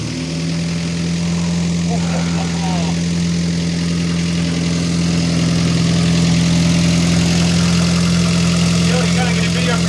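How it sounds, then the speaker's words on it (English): A Jeep CJ-5 barn find, running after 45 years parked, idles with a steady low throbbing hum throughout, loud and close, while people talk faintly over it. "I think maybe we should try to get it to idle for a little while."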